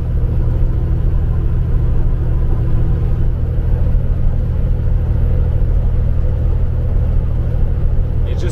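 A custom show truck drives on a windy Wyoming road, heard as a steady low engine and road rumble from inside the cab with wind noise, constant and fairly loud.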